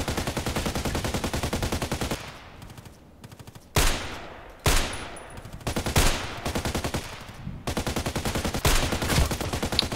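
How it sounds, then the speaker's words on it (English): Rapid machine gun fire in a video game, dense continuous bursts broken by short pauses and a few sharper loud cracks, close and loud throughout with no talking. "Can you tell me why I was shooting like with a machine gun?"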